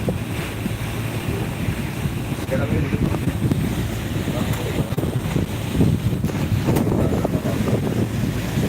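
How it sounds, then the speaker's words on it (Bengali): Fishing boats heading toward the camera on a river during hilsa fishing, with a steady rumble of boat motion and water blending into heavy, continuous wind noise across the open water. "অনেকগুলা নৌকা আসতেছে এখানে"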